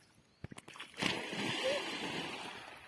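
Someone goes into a lake during an outing, giving a burst of splashing and sloshing water after a few sharp knocks, then steady churning water noise, with voices in the background.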